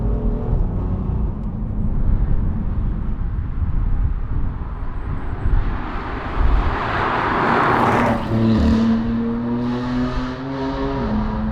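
A BMW M3 Touring's engine is feathered on the throttle from low revs, a loud, close, steady drone that rises in pitch as the car picks up speed, with a brief shift-like dip near the end.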